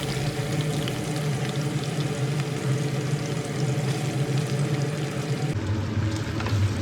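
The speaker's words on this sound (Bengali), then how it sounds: "পেঁয়াজ কুচি ফোড়নের সঙ্গে ভালোভাবে নেড়ে চেড়ে ভেজে নেব।" Chopped onion fries steadily in mustard oil with tempering spices, a dense continuous sizzle with no voices, close and fairly loud.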